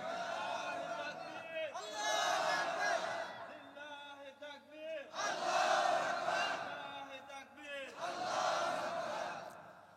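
A large crowd at an Islamic sermon gathering in Tangail roars the takbir chant in three loud surging waves of massed voices, each rising and falling between brief lulls.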